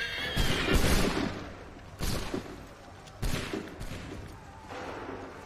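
Musket volleys ring out in Assassin's Creed III, with several loud, booming massed discharges of black-powder muskets a second or so apart, each trailing into a rumbling, crackling decay over battlefield din.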